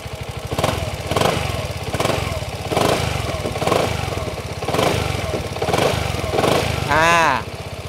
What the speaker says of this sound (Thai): นี่คือเสียงเครื่องยนต์